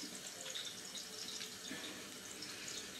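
A tap runs steadily while someone washes their face and works cleanser into a lather at a sink during an evening skincare routine, a continuous soft splashing hiss with no talking.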